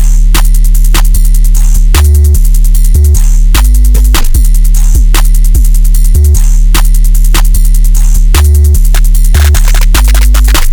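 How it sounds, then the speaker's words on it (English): Aggressive trap drum pattern with a heavy, gliding 808 bass underneath: loud, dense, punchy hits and rapid hi-hat patterns repeating over a sliding low end, played alone throughout. "so all of the drums are gonna sound like this"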